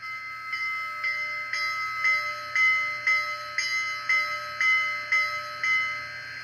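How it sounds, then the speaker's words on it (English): An Athearn Challenger 4-6-6-4 model steam locomotive with a LOKSound decoder rings its bell in a steady, even rhythm, about a dozen clear metallic strikes at a moderate level with no voices. "Now we're going to listen to some sounds of the locomotive,"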